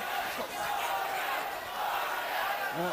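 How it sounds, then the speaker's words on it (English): Boxing crowd of Fernando Vargas supporters chanting for him in an arena, a steady roar of many voices sustained throughout at moderate distance, with a commentator's voice faintly above it. "Vargas supporters behind us chanting for their man"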